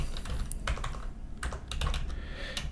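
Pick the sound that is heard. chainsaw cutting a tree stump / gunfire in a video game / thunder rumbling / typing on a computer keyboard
typing on a computer keyboard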